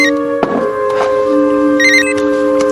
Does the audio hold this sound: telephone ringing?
yes